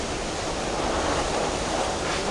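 Typhoon floodwater rushing close beside a road, a loud, steady broadband roar of churning water with no break, up close and alone with no voices.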